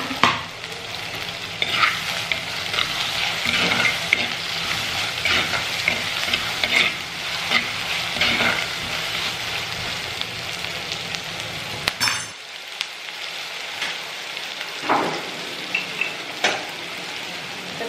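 Tomatoes sauté and sizzle in a pan while a mutton chops gravy is cooked, a continuous loud frying hiss broken by regular stirring scrapes and clinks, with a brief pause near twelve seconds before stirring resumes.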